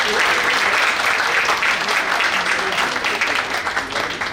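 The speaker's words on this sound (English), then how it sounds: "so that's a big round of applause" Dense crowd applause from the audience at a lighthearted panel discussion about a parenting book, a full steady round of clapping that stays loud throughout and eases slightly toward the end.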